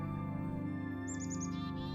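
A robin, a red-breasted bird, gives a short run of quick chirps over a steady droning, tonal background, fairly faint and brief.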